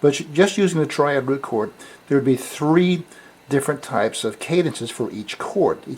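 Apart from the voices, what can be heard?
None of the usual background noises is heard.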